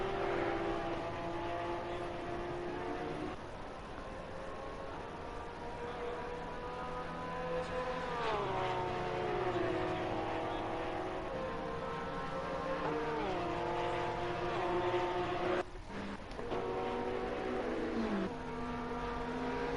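Race cars speed down the pit lane straight in a racing video game, multiple engines droning loud and steady with rising and falling pitch as they shift gears, filling the whole stretch with no talk.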